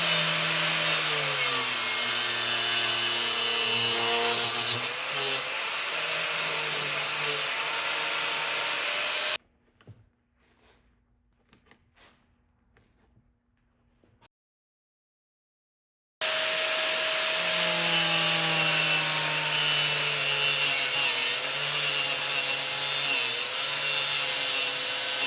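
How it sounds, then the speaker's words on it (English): An angle grinder cuts through hose while installing catch cans on an EK chassis, a loud continuous high whine with wavering pitch, stopping for several seconds of near silence before grinding resumes just as loudly. "take my angle grinder and cut them"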